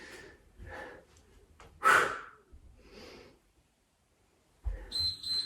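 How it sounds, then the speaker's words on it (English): Forceful, breathy exhales from someone doing a yoga HIIT workout, several short audible puffs with one sharp loud blast, close up with quiet gaps between and no speech. "Those nice noisy exhales."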